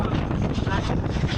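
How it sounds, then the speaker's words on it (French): Strong crosswind of around 80 km/h buffets the microphone in Iceland, a rough, continuous low roar with gusty fluctuations over a short stretch. "Il doit y avoir des vents de 80 km/h"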